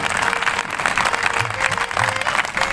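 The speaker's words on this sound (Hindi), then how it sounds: "4 तालियां बजी, अच्छा।" A crowd at a poetry recital breaks into loud, dense clapping that rolls on continuously, with a brief low voice murmuring faintly underneath.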